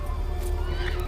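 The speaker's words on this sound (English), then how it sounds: "Is that the Bat Horse?" A horse whinnies loudly and close in a brief burst from a Justice League movie trailer, over a low rumbling score.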